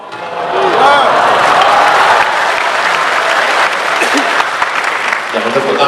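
An audience at a humorous religious lecture claps loudly and continuously, with a dense burst of applause and some cheering building quickly and holding for several seconds before fading slightly.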